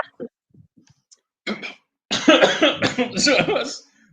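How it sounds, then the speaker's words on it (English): A few sharp coughs close by, then a stretch of muffled, breathy coughing and throat noise in quick succession. "The peanuts make you cough."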